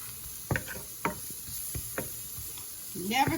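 Flour is stirred in a hot pan for cube steak gravy, giving a few light scraping taps over a faint, low sizzle, with a louder burst of sizzling at the end.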